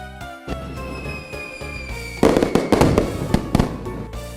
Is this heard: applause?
no